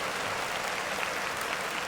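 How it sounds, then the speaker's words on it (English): Steady crowd applause, dense and continuous with no pauses, sounding like a recorded clip of many people clapping, even in level from start to finish. "And then clap it up, man."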